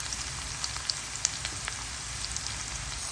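Squid sautéing with garlic and onion in a hot pan for pancit, a steady soft sizzle with scattered small pops and crackles, fairly quiet and close.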